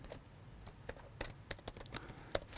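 Quick, irregular keystrokes on a computer keyboard while code is entered, with sharp close clicks scattered across a quiet room tone and no talking.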